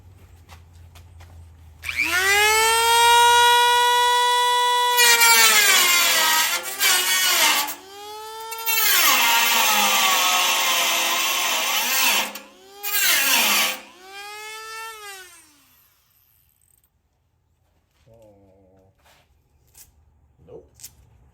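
A cutting disc bites into the metal of a belly tank for a racer build, screaming with rising and falling pitch in long loud bursts separated by short gaps, then dropping to faint quiet at the end.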